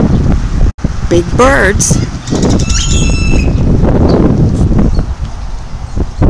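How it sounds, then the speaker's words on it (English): Wind buffets the microphone in a low, steady rumble while a person talks and birds call briefly. "It's a windy day,"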